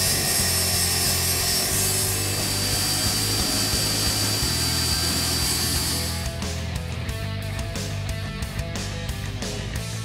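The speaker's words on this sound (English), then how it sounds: "Now the last step is going to be to drill one additional hole." A power drill runs steadily with a pilot bit through a car's firewall during a power brake booster install on a 1967-1970 Ford Mustang, a continuous loud grinding whir that breaks into choppy bursts toward the end.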